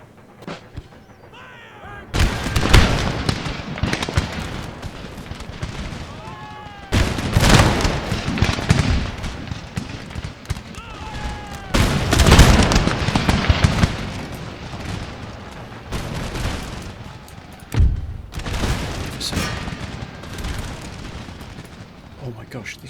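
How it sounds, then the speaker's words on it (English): Infantry muskets fire crashing volleys in the Napoleonic-era strategy game Empire: Total War. Four loud, rolling bursts of gunfire arrive a few seconds apart, with voices faintly beneath the din. "Give them a volley, lads."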